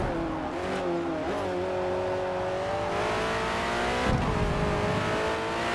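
A race car engine holds full throttle through corners in Forza Motorsport, an endurance-legends Ford versus Ferrari race, droning loud and continuous with harmonics sliding in pitch and a brief dip near the end, no talk.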